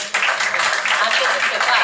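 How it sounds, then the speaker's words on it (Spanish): A short, dense burst of audience clapping fills the room for a small folk group of guitar, mandolin, lute, bandurria and accordion, steady and loud throughout. "ya les podéis aplaudir, por supuesto"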